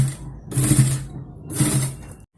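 A sewing machine stitches pleats on an 11-inch doll dress in two short close bursts of motor whirring, separated by a pause, with no talk.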